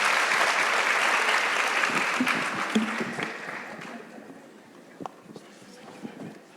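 An audience at a CEO forum claps warmly for the chief executives, dense applause that thins and fades over several seconds into scattered last claps, footsteps and murmured talk.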